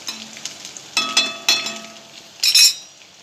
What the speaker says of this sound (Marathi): चांगला लसूण फ्राय करायचा आहे